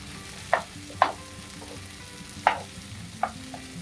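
Goat brain (bheja) fries in a pan, a steady low sizzle punctuated by four sharp utensil taps or scrapes against the pan, close and clear with no talking.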